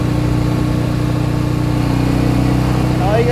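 A 1967 BSA Spitfire Mk III twin motorcycle engine drones steadily at speed while riding, a loud continuous low rumble with a faint rise near the end.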